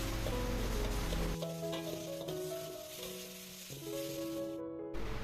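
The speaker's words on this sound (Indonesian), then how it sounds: "Selanjutnya tumis hingga matang." Mashed tempe sambal stir-fries in a pan with added water, giving a continuous close sizzle and scraping stirring sounds throughout.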